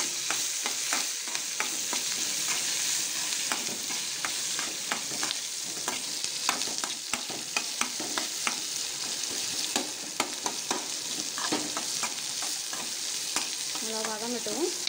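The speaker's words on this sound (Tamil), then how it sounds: "வெங்காயம், பச்சை மிளகாய், கருவேப்பிலை எல்லாத்தையும் ஆட் பண்ணிக்கலாம். அதில் நல்லா வதக்கி விட்டுருங்க." Onion, green chili and curry leaves sautéing for anchovy thokku: a constant close sizzle with brisk, repeated spatula scrapes and taps against the pan, and a brief whine near the end.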